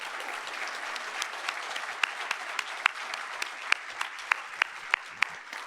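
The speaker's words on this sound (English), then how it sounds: "Please join me in a round of applause for our panelists today" A conference audience applauds panelists at a United Way campaign kickoff, with steady clapping from a medium-sized crowd and a few sharp, distinct claps standing out near the front.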